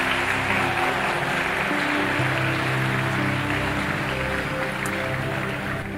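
A church congregation claps steadily as a dense, continuous wash of applause that holds at a constant level for several seconds, with no voices standing out.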